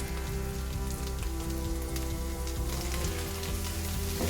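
Chopped green chillies, cumin and ginger garlic paste fry in oil in a pan, a soft steady sizzle like light rain, continuous and fairly quiet with a low hum underneath.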